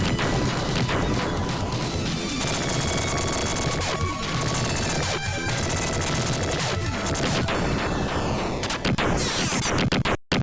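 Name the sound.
explosions and gunfire in a Sega Genesis video game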